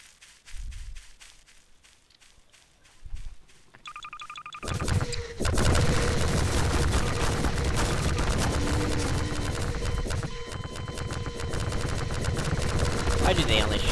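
Video game gunfire: after a few quiet seconds with faint thumps, a dense, loud barrage of shots and explosions erupts and continues steadily to the end.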